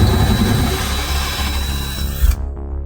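A power drill cuts a hole through a wall, whining and grinding loudly for a couple of seconds before stopping abruptly into silence.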